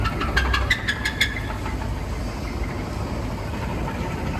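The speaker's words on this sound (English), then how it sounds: "the engine was in a position where it was almost completely seized" Seized car engine with fried bearings running rough, a steady low mechanical drone with a few sharp metallic knocks early on, fairly loud and alone.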